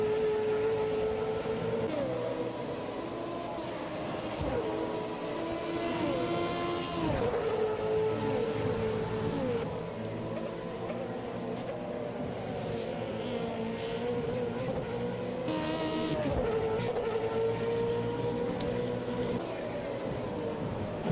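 A DTM race car in a racing video game laps the Red Bull Ring at Spielberg, its engine whining up through the revs and dropping sharply at each gear shift or braking point, loud and continuous.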